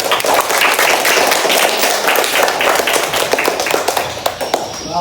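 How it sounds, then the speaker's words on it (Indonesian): A classroom gives group 1 a round of applause after their discussion presentation, with dense, loud, close clapping running steadily before tapering off at the end. "beri tepuk tangan untuk kelompok 1"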